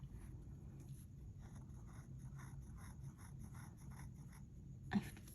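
A Sailor Shikiori fountain pen writes on Midori MD paper, giving very faint, close, papery scratching in a steady run of short strokes against a quiet background.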